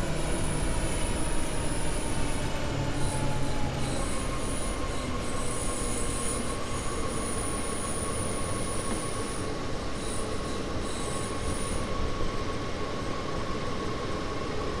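A train rumbles steadily along in the Rhein-Ruhr Osten route of the video game Train Sim World, with continuous wheel and rail noise and a faint high squeal, loud and unbroken throughout with no talking.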